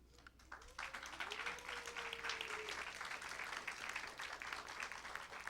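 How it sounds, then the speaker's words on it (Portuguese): A church congregation applauds visiting guests who stand, a sustained, fairly even round of clapping that swells in quickly, with a voice briefly audible near the start. "Nadia, Kátia, Mel, Felipe, pessoal de Miami, fica de pé para receber uma salva de palmas, por favor."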